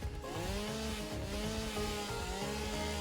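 A chainsaw cuts down trees in the video game Satisfactory, a loud continuous buzzing whine that holds steady with a slight rise in pitch.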